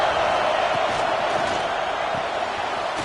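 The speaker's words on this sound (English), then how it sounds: "here comes the noise. This crowd is trying to inspire this defense to make a big red zone stop." A football stadium crowd roars as it urges the defense toward a red zone stop, a dense, loud, steady wash of voices that holds through the whole stretch.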